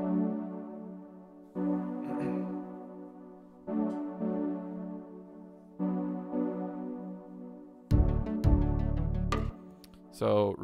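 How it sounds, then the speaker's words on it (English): Synthesizer pad in a worship-style song intro, sustained chords shifting roughly every two seconds, with brighter, busier layers and heavy low hits joining in toward the end. "that pad sound just sounds like this"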